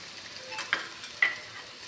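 Ajwain, ginger and garlic stirred and fried in a pan for rajwadi dhokli, giving a soft, steady sizzle with two sharper scrapes of the spoon near the middle and end.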